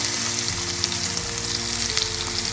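Sliced onion hits hot oil seasoned with fennel seeds in a pan and fries with a loud, dense, continuous sizzle that stays close and steady throughout, with no talking over it.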